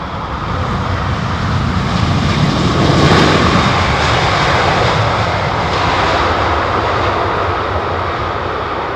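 A British Airways Boeing 787 takes off at London Heathrow with a loud, continuous jet engine roar that swells to a peak around the middle and stays strong, with no voices over it.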